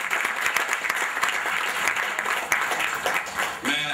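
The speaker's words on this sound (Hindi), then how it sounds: "एक बार जोरदार तालियां" An audience gives loud, continuous applause at an international book release event for the book TV Ki Bhasha. The close, dense clapping lasts about four seconds.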